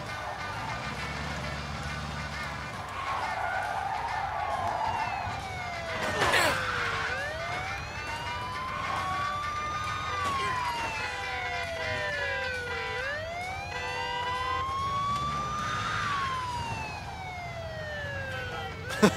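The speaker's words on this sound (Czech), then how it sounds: "Dvě policejní auta, proč?" Police car sirens in the video game Mafia 2 wail with long rising and falling sweeps, loud and continuous, layered over steady background game noise throughout.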